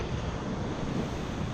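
Surf rolling onto Condado Beach in Puerto Rico during rough winter conditions, a steady continuous wash of waves mixed with gusty wind rumble on the microphone, with no voices.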